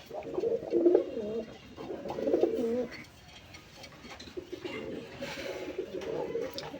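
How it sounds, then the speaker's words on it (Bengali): Deep, throaty coos from a local Rasgolla pigeon come in three bursts of repeated calls, fairly close and clear, with faint background noise between them. "সেই পাগলার এই মোটা ডাক"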